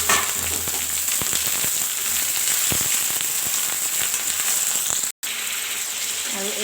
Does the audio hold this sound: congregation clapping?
no